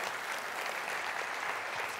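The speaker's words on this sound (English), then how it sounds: "Can we applaud Hachem?" Warm, even applause from a conference audience of company leaders, a steady wash of many hands clapping with no break across the short stretch.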